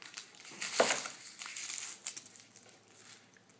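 A knife cuts the end off an onion for a chicken pot pie, giving one crisp crunch followed by soft papery crinkling of the skin, close and quiet.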